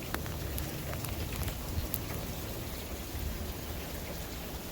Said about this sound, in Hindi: आइस और बारिश दोनों मिक्स है।